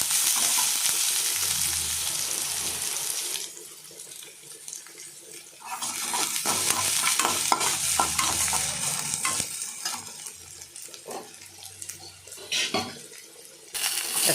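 Onions sautéing in a pan for sambar, a continuous sizzle broken by stirring scrapes and clinks of a utensil against the pan, with running water heard in stretches, no talking.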